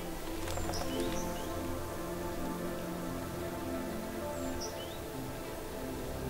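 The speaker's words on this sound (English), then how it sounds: "And can you hear this bird?" A small bird chirps in a frosty forest, a few short, thin calls at moderate distance over a quiet, steady background hush.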